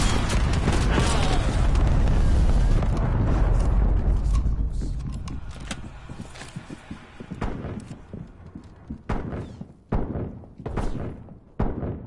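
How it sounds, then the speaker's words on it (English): A cruise missile strike explodes in the Call of Duty Cold War video game: a loud, heavy rumbling blast that fills the first few seconds and then fades, followed by scattered sharp knocks and thuds. "Enemy cruise missile launch detected."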